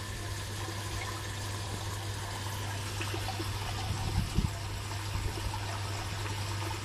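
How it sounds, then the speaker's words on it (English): Steady gushing and trickling of water from an aquaponics bell siphon, a continuous rushing flow with a low hum underneath and a few faint knocks. "Water's gushing out."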